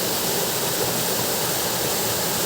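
Tikip Falls in Limay, Bataan pours with a loud, constant roar of falling water, a dense unbroken rush heard up close with no voices over it.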